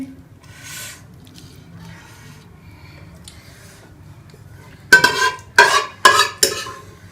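Rice is spread in a pot and chicken tikka pieces are set on top while layering biryani. A few seconds of faint rustling lead into three loud, close scraping and clattering bursts of a spoon against the pot.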